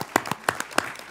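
A few people clap briefly in a congressional hearing room, five or six distinct sharp claps spaced unevenly over about a second, fairly quiet.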